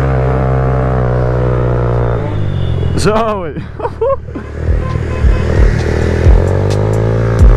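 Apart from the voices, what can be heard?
moped revving with open exhaust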